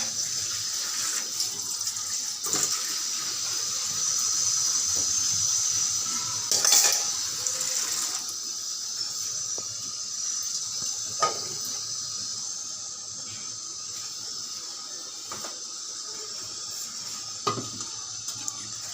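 Dishes are washed under a running tap, a steady hiss of flowing water with occasional clinks and knocks of utensils, close and fairly quiet.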